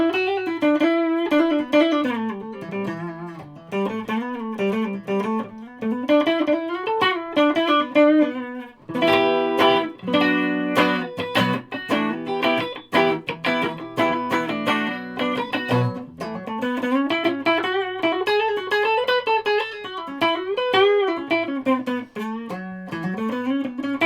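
Clean electric guitar, a CSL Telecaster-style guitar played through the clean channel of an Orange TH30 amp with a reverb pedal, strummed chords and single-note lines ringing out steadily, with no voices.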